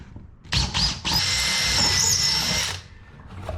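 A power drill whines at high speed as it bores through wood during a wooden boat restoration, starting with two short bursts before one sustained, close, loud run that winds down.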